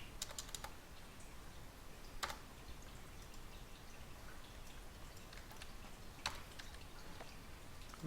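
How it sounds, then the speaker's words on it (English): Keystrokes on a computer keyboard while entering a file path, a quiet, irregular run of light taps with a couple of sharper clicks, close and alone without talk. "we need to type this path"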